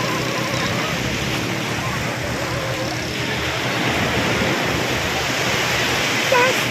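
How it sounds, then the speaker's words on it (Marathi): Broad, steady roar of surf on a beach at Alibag fills the clip, a constant rushing wash with slow swells and a brief voice near the end. "आम्ही तिघी जण इथे समुद्राच्या लाटांचा आनंद घेत आहोत"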